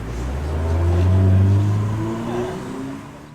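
Classic cars drive away at a classic car week gathering, a rumbling engine swelling close by and then fading as it pulls off, with a steady low drone throughout.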